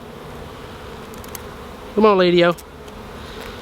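A honeybee gives a brief, close, half-second buzz at an open hive while a beekeeper tries to mark the queen; a low background hum runs throughout and a person speaks.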